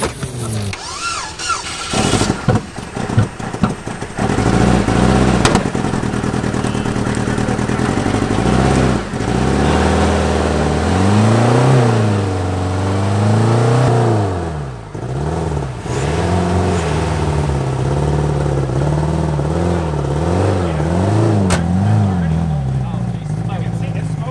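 A Chevy S10 truck engine running on nitrous revs hard and repeatedly, its loud close roar rising and falling in rapid bursts with short drops between pulls and a few voices shouting over it.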